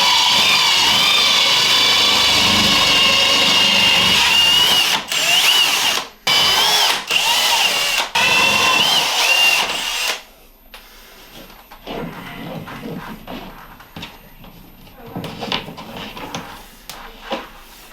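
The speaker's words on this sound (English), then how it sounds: "we can just crack on and get them drilled out" Power drill boring holes in a ceiling for downlights, a loud continuous whining drone with brief stops and restarts, then quieter scraping and handling noise.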